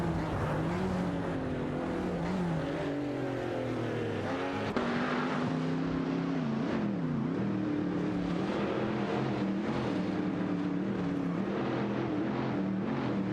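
Racing cars in a video game race, including a Fiat X19 Dallara and an Alpine A110 1800s, droning engines with shifting pitch and revs, loud and continuous with several cars layered together.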